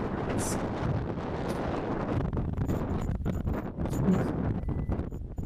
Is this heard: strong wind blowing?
yes